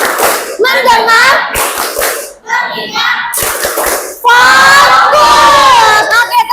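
A classroom of children clapping in rhythmic patterns led by their teacher, with loud bursts of claps interleaved with children chanting and shouting together.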